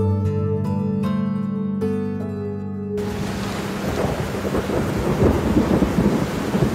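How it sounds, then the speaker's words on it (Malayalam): Steady heavy rain falls with low rumbling thunder, starting abruptly as soft piano-like music cuts off and then continuing as a dense, close wash of sound. "ഈ മഴ ഒന്നും തോരട്ടെ."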